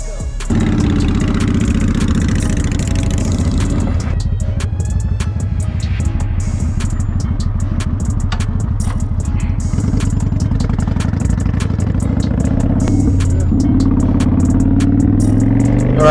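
A loud motorcycle engine idles with a steady low throb, then picks up and runs continuously, close by and dominant throughout.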